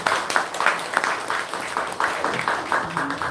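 Rhythmic clapping from a small group at a Buddhist memorial symposium in Korea, steady and fairly close, with a faint murmur of voices near the end.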